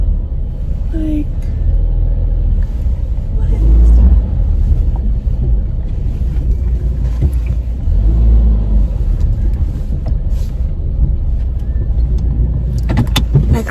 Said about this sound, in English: now I gotta back up because I can't come down this street.